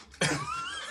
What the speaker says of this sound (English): As he coughs up blood.